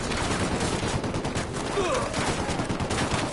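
Heavy, continuous gunfire in the tactical shooter Ghost Recon Wildlands, with a dense, unbroken wash of shots and a faint voice partly buried in the noise.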